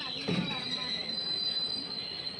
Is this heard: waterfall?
no